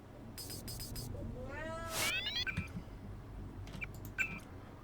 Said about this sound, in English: Say hello to the cat, everyone.